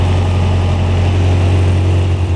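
Steady, close rumble of a Lotus 7 Birkin kit car's four-cylinder engine idling, an even low hum that holds unchanged throughout with no revving.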